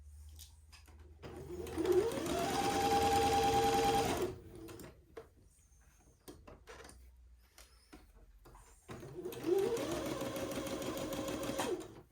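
A sewing machine runs in two bursts, stitching tiny French seams with a quarter-inch seam allowance, its motor whirring in a steady rising hum for about two seconds each time, close and clear with a quiet pause between.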